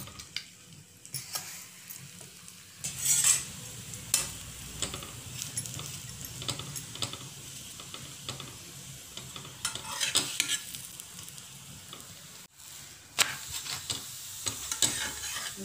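Spinach paratha fries in oil on a pan, a soft irregular sizzle with occasional scraping and stirring clatter from a spatula, close and moderate in level without talk.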